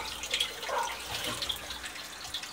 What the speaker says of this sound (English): So I just turned the water on.